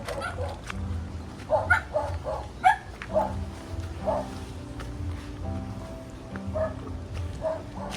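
A dog barks several times in short irregular bursts, fairly close, with a few yips and whimpers between barks over quiet background noise.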